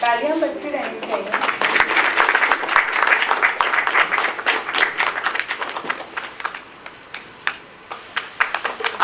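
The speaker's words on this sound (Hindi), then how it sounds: "तालियां बजती रहनी चाहिए।" Applause from an audience at a stage event: a dense, sustained burst of clapping that thins out toward the end into scattered individual claps, with a voice talking over it at the start.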